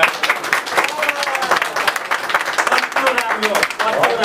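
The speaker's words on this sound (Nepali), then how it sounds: "ल हामी एकचोटि जोरदारसँग ताली बजाइदिउँ।" A congregation at a Nepali Christian covenant wedding in a Jhapa church applauding, dense sustained clapping from a crowd, loud and close, continuing throughout.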